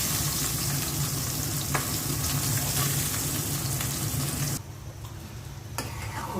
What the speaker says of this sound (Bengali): পটলটা হালকা ভেজে নিলাম